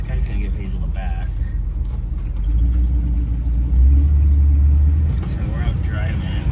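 A 1964 Ford Country Squire station wagon out driving after a rear brake adjustment, its low engine rumble and road noise steady throughout, with a louder deep surge midway and a voice talking at times.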